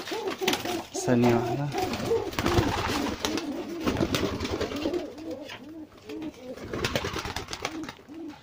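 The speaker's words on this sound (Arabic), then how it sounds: "لسه طبعا في حمام ما طلعش اهو يا جماعة" Domestic pigeons cooing in a balcony loft, repeated soft throaty coos in a steady rhythm close by, while someone talks over them.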